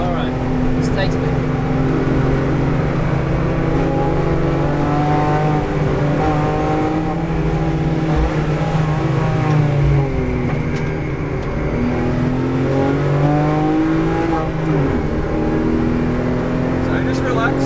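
A car engine accelerating hard on a race track during a driving-school session, loud and close, with the engine note rising and falling through gear changes and a persistent in-car drone.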